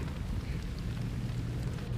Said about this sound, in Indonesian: Ya tinggal udah maghrib gerimis. Hujannya terus banget.